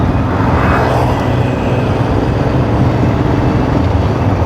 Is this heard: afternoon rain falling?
no